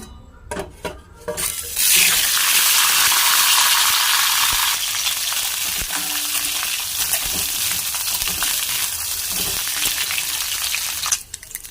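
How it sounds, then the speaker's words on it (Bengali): Eggs hitting hot oil in a pan after some utensil clatter, bursting into a loud, roaring sizzle that settles into a steady frying hiss, with a few pan knocks at the end. "হালকা করে ডিমটা ভাজা হয়ে গেছে"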